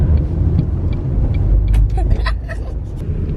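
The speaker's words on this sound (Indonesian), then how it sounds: "Airport bus" Airport bus heard close by with a loud, steady low engine rumble and some hissing, brake-like bursts, while people talk over it.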